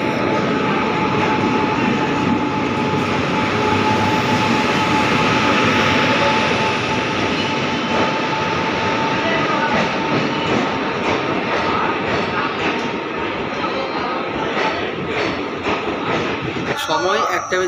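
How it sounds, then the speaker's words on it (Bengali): The Paharia Express rolls into platform 3 at Malda Town station with a continuous loud rumble and clatter of wheels and carriages, with indistinct voices mixed into the din. "আমাদের ট্রেন ঢুকছে মালদা টাউন স্টেশনের 3 নম্বর প্ল্যাটফর্মে।"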